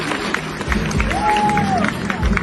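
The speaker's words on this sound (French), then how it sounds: "Veuillez applaudir s'il vous plaît" An audience at an award ceremony for Miss Mathématiques and Miss Sciences applauds and cheers in a loud, continuous burst of crowd clapping, with voices and babble mixed in throughout.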